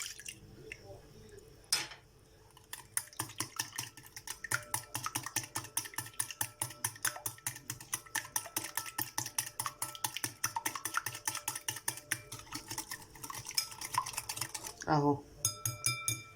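Rapid, steady rhythmic tapping of a utensil beating mashed potatoes in a bowl for croquettes, close and continuous for most of the stretch, with brief pauses and a louder scrape near the end.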